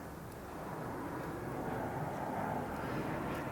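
Commercial airplane passing high overhead, a steady broad rumble that swells slightly and fills the whole clip at a distance, with no voices.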